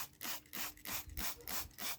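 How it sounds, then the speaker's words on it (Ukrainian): A hand spray bottle mists microgreen seeds in a home growing tray, eight quick even hissing spritzes in a steady rhythm, close and fairly quiet with no talking. "Далі беремо нашу бризкалку і добренько так пшикаємо насіння."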